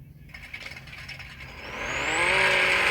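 A drag car revs hard to heat its tires in No Limit Drag Racing 2.0, its engine note climbing in a rising, increasingly loud whine after a brief rattly idle.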